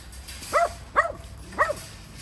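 Young abandoned dogs behind a fence give three short, separate barks spaced roughly half a second apart, at moderate distance over a quiet background.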